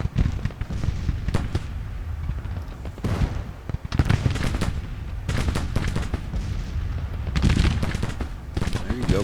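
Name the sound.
gunfire in the video game Grand Tactician: The Civil War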